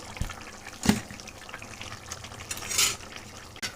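Cooked greens being stirred in a pan, wet, soft scraping and sloshing with a few sharper knocks of the utensil, close and moderately loud, with no speech.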